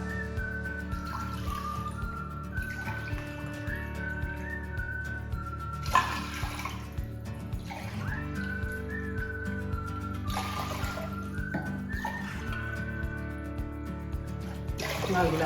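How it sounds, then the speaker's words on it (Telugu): Water poured into a pot of washed lentils for cooking, a soft continuous trickle and splash heard under background music. "1 గ్లాసు పప్పుకు 2 గ్లాసుల వాటర్ పోయాలి"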